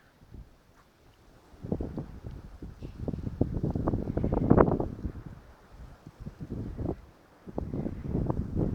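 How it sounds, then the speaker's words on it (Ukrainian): Strong winter wind gusts buffet the microphone in a ravine, rising and falling in waves, with rustling and roaring that swell and ease over several seconds. "Знову вітер піднявся сильний."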